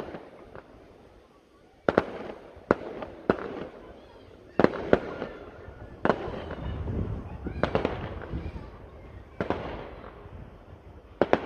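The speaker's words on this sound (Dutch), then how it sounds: "mag je vuurwerk afsteken" New Year's Eve fireworks set off at an amusement park bus parking lot pop and crack in scattered bursts over a steady crowd murmur, with sharp loud reports every second or two and a low rumble beneath.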